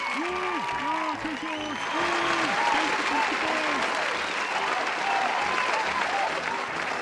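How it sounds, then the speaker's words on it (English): Studio audience applause and cheering fill the space, with steady dense clapping under a few sung or shouted voices early on and continuing at an even, moderate level throughout. "So let's hear a fucking cheer for Amity."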